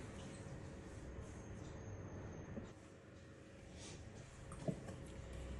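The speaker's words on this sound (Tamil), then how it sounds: "மிக்சி ஜார்ல இதை போட்டு ஃபர்ஸ்ட் அரைக்கிறேன்" An electric mixer grinder grinds soaked urad dal and rice with water, a continuous whirring, grinding motor noise running steadily throughout with a faint hum, close and even in level.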